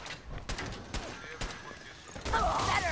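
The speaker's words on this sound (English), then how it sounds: "Gun is highly inaccurate." Repeated gunfire from an inaccurate gun in Fallout 4, a handful of sharp shots spaced irregularly over a few seconds, with busier combat noise building toward the end.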